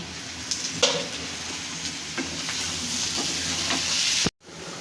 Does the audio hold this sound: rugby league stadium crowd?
no